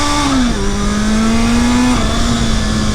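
A Yamaha XJ650 Turbo motorcycle accelerates on a wet road with its rear tire spinning, a loud close engine whine climbing in pitch, dipping and climbing again without pause.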